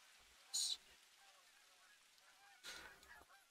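A flock of Canada geese honks in the hunting game theHunter: Call of the Wild, with one sharp, bright honk burst followed by a rougher, more spread-out call a couple of seconds later over a faint, quiet background.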